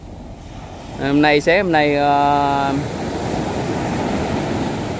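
Sea waves wash steadily at the beach in Nha Trang, a constant broadband rush with some wind. A voice speaks over it briefly, and the surf continues alone afterward.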